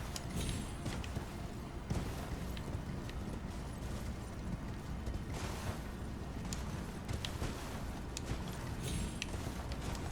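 A horse gallops in Elden Ring, its hooves beating a fast, even rhythm through a busy in-game ambience with occasional louder thuds and creaks, with no voices.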